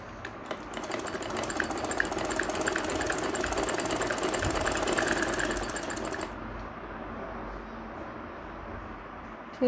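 A sewing machine stitches a ladies' sleeve cuff in one continuous run of about six seconds, a steady close whirring rattle that then stops, leaving quieter room noise.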